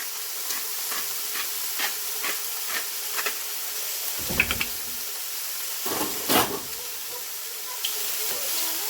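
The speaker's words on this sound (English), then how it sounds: "I'm just going to cook this for a minute and get it all browned up" Onions and mushrooms browning in a pan for a low-sodium stroganoff give a steady soft sizzling hiss with scattered light crackles and a few louder stirring scrapes, moderately close and without talk.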